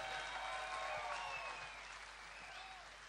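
Audience applause at a jazz festival concert in Delhi, a dense steady patter of clapping from a crowd that tapers slightly toward the end, with a few voices underneath.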